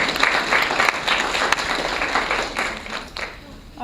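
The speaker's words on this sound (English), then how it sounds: "Can we give Shamiso a big" An audience at a design talk gives a hand clap for a speaker, a steady wash of applause that holds at an even level, with voices mixed in beneath the clapping.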